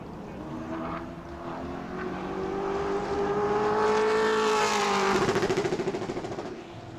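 A Pro Late Model race car engine on a qualifying lap at New Smyrna revs and climbs through gears, swelling louder as it passes near, then fading slightly, with a buzzing harmonic drone.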